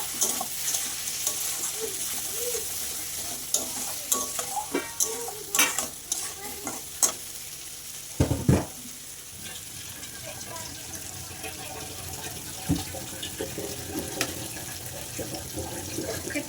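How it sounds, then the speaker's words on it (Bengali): Papad curry with turmeric being stir-fried in a pan, with a steady sizzle under repeated scraping and clacking of a spoon against the pan, plus occasional splashing water sounds; no one talks. "হলুদ পরিমাণ মতন দিয়ে এবার ভালো করে কষিয়ে নেবো"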